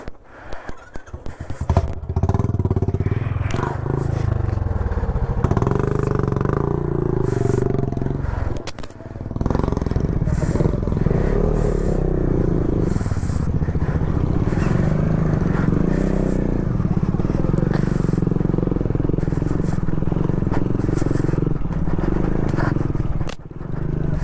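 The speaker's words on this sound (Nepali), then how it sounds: "ठुलो बाइक" A Benelli TRK 502 motorcycle rides a slippery road in West Sikkim with a steady, loud engine drone and wind roar. Scraping and rattling come and go throughout, and a rider talks now and then.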